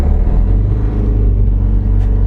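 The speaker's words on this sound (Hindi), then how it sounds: "पहले गियर पे मैंने फुल एक्सीलरेट पेडल दबाया हुआ है" A Tata Ace Mega XL small truck with a 10 km/h speed limiter pulls away in first gear at full throttle, its engine a loud, steady low rumble held close throughout with no talk.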